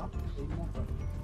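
Horse hooves clip-clop in a steady rhythm in the Red Dead video game, with talk and game sound layered over them.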